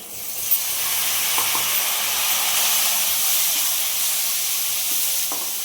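Tomatoes and onions saute in a pan for kadai gravy with a steady, bright sizzle and hiss that stays even throughout. Faint stirring taps sound now and then, close and fairly loud, with no voices.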